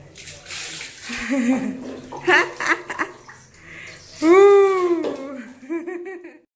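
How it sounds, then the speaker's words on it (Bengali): Water poured over a young child's head during a bath, splashing in short bursts while someone talks and the child whimpers, cries and giggles nearby. "দাও মাথায় জল দাও, মাথায় দাও, মাথায়।"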